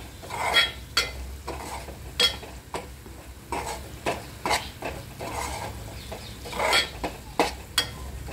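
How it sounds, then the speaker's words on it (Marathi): Masala hits fried onions in hot oil, giving a steady sizzle under repeated sharp stirring scrapes and clanks of a spoon against the pan, close and fairly loud. "आता त्यामध्ये आपला हा सगळा मसाला टाकत आहे आपण।"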